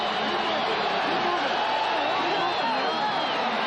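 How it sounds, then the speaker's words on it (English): A large stadium crowd at the 1979 NFC Championship football game, Los Angeles at Tampa Bay, cheers and roars continuously, a dense wall of voices at loud, steady volume. "the crowd is beginning to really get it on now"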